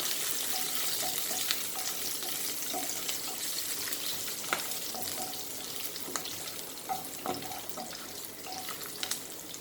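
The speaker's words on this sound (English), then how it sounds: "Fry this nicely." Spinach frying in a pan with spices, a soft continuous sizzle with occasional light stirring taps, fairly quiet and close.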